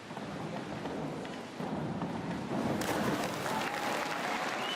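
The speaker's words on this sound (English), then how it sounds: "hence the cheers from the crowd" Crowd cheering and applauding at a diving competition, a dense steady roar of clapping and voices that swells louder partway through and stays loud to the end.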